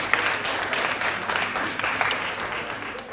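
An audience claps steadily to open a round of a school quiz competition, a dense and continuous burst of applause at moderate volume filling the hall.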